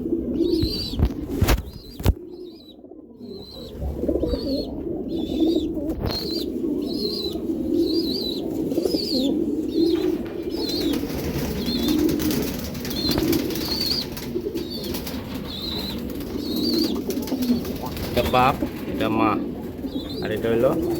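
Racing pigeons coo repeatedly in soft, throaty bursts, fairly close, with occasional wing flutters and people talking in the background.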